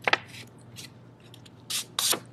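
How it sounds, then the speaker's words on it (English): Scissors snip through paper while cutting out a folded paper square, a few short crisp cuts near and fairly loud, with brief pauses between them. "So I'm going to use my scissors and cut this out."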